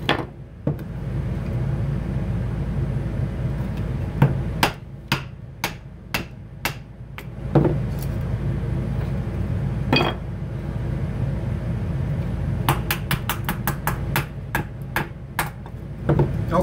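Wooden batoning stick striking the spine of a Cold Steel Finn Hawk hatchet to split wood, a series of sharp knocks, some spaced and some in quick bursts, close up over low background noise, without speech.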